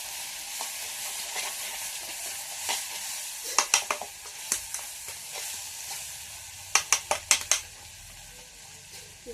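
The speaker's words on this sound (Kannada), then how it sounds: "ಇವಾಗ ಉಳ್ಳಾಗಡ್ಡಿ ಎಲ್ಲ ಚಂದಾಗಿ ಫ್ರೈ ಆಗ್ಯಾವ್ರಿ" Onions frying in a pan with a steady sizzling hiss, while a large spoon scrapes and clinks against the metal in short bursts as it stirs. The sizzle stays soft and close throughout.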